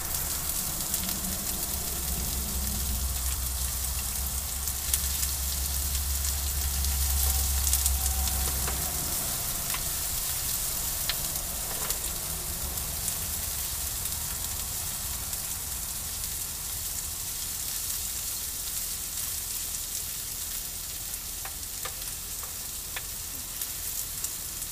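Onion fries in a pan for a sirloin steak sandwich, giving a steady crackling sizzle with soft stirring scrapes throughout, close and continuous.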